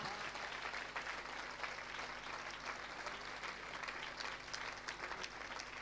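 An audience at a spiritual discourse gathering applauds steadily, a dense, even wash of many hands clapping that holds for several seconds, heard from a moderate distance with no voices standing out.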